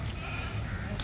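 A Sojat goat bleats once at close range on a goat farm in Ahmedabad, a short, steady, raspy call over a busy background.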